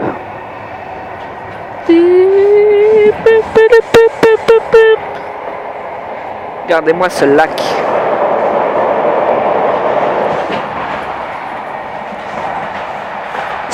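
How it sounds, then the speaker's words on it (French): Rumbling rail noise with loud horn-like whistle blasts and clattering, a voice speaking briefly over the steady din of a moving train. "Forcément, c'est un train."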